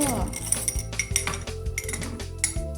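A spoon clinks repeatedly against a bowl while stirring fish sauce to dissolve it, with quick metallic taps in an irregular rhythm, close and fairly loud, and someone talking over it.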